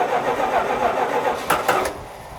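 A Dodge Ram D150 classic truck cold-starting in winter, its engine churning and catching with a steady mid-pitched rumble and a few sharp bursts near the end.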